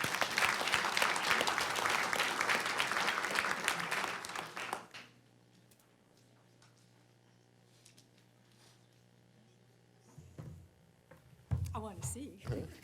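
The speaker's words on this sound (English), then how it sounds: "so let's give him a round of applause." Audience applause at a board reception, dense clapping filling the room for about five seconds, then fading to near silence with a low hum before voices and movement return near the end.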